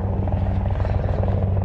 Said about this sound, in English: Helicopters, they like me.